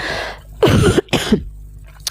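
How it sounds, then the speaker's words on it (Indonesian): A person coughs two or three times in close succession, harsh and close to the mic, followed by a brief throat-clearing sound and quiet room tone. "jadi batuk aku"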